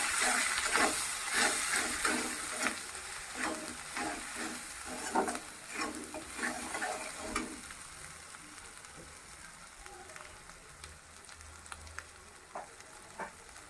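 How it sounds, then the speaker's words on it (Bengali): Spices with salt and a spoonful of turmeric fry in a pan, giving a steady sizzle broken by repeated scraping stir strokes that fade into a quieter hiss toward the end. "এই মশলাগুলো ভালো করে ভেজে নেবো।"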